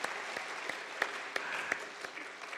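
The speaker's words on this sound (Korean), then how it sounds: "격려의 박수 한번 보내주시고" A church congregation at a Sunday afternoon service applauding the choir, steady soft clapping from a crowd heard at a distance, with a few sharper claps standing out.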